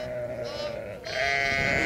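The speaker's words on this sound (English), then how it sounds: "these big long wool sheep that have dreadlocks" A big long-wool sheep with dreadlocked fleece gives a close, loud, wavering bleat that swells and carries through to the end, alone without talk.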